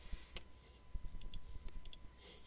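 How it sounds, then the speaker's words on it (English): A few sharp, quiet clicks of the return key on a keyboard, isolated against a faint background hum, with no talking. "I'm just going to hit the return key on the keyboard."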